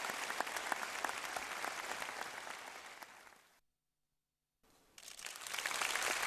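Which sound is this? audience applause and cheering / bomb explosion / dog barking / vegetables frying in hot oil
audience applause and cheering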